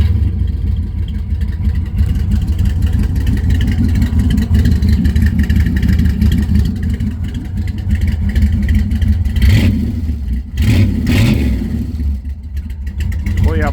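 A 1979 Chevy Malibu wagon with a big-cam 350 V8 and loud exhaust revs repeatedly, its deep, choppy engine note loud and close throughout, with a few sharper blips near the end and people talking over it.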